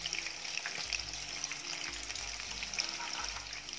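Chicken fries in hot oil while being stirred, making a constant bright sizzle with faint scraping and bubbling, close and steady throughout with no talk.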